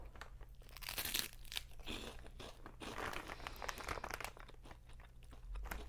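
Close, steady crunching and chewing of Field Trip Crispy Cuts pork rinds during a taste test, with dense, crackly bites continuing without pause.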